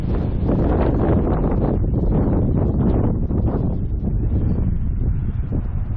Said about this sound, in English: But tonight we're definitely getting a lot of heavy wind.